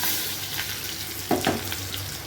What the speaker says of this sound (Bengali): এই যে কালো জিরে ফোড়ন দিয়ে দিলাম এখন এর মধ্যে দিয়ে দেবো ভাজা আলুগুলো